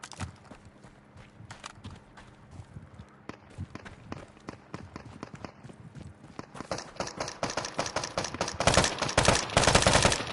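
Video game gunfire rattles in rapid bursts and single shots, sparse at first, then growing louder and denser into sustained machine-gun fire near the end.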